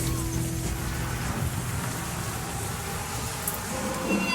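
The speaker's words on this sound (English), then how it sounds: "The rain is starting now, said Toby." Steady heavy rain hisses over everything, with low rumbling underneath that suggests distant thunder.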